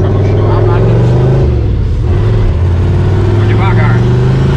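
Chevrolet Opala engine revving and pulling hard as the car tries to get traction, a loud, continuous low rumble that rises and dips across the run, with voices talking over it.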